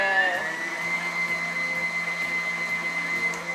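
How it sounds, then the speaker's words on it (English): Electric stand or hand mixer beating carrot cake batter, a steady loud motor whine with a sustained hum, running continuously without a break. "why do it by hand when you have a mixer?"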